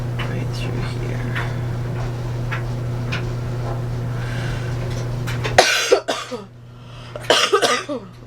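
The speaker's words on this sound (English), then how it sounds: "Ooh, sorry about the coughing." A person with a lingering cold coughs several times in quick close bursts after a steady background hum cuts out, loud and near.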